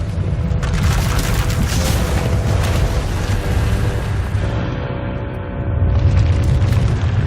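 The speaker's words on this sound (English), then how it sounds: "When it erupts, the entire asylum will be destroyed." A huge, continuous rumbling explosion as a runaway power eruption destroys an asylum in the video game SWTOR, loud and roaring, with debris-like crackle and a swelling boom near the end and no speech.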